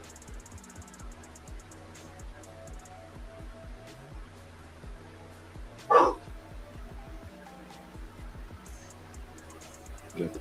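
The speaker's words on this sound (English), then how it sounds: "Yeah, big dog barking." A big dog barks once, a single loud, close bark standing out midway through quiet, ticking background noise, with another faint bark near the end.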